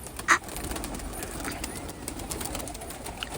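A flock of hungry pigeons gathered outdoors for a wheat feeding, giving soft low coos and a brief flutter amid steady background noise.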